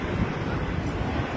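Niagara Falls gives a steady, dense roar of heavy falling water, a loud continuous rumble with no breaks, much like strong surf or wind.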